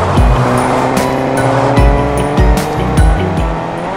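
A new car in Fortnite revving hard and speeding off with loud tire squeals, repeated engine surges and screeching bursts, close and dominant.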